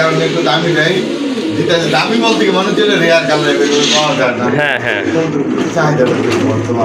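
Pigeons from a large mixed collection at a shop in Konabari, Gazipur, coo beneath loud overlapping conversation close by. Their low warbling is largely buried under the voices.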